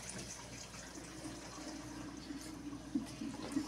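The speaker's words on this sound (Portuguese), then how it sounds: "vamos enxaguar agora." Water running and splashing while a small dog is rinsed during a bath at home, a steady wash of flowing water with a few louder splashes near the end.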